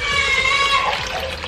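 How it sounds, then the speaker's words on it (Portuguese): Water poured into an electric pressure cooker before cooking beans at home, a short close splashing trickle with faint voices in the background. "Agora aqui eu vou pôr água, gente."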